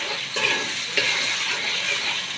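A few spoonfuls of tomato paste sizzle in hot oil left over from frying onions and vermicelli, a continuous close hiss broken by soft scraping stirs.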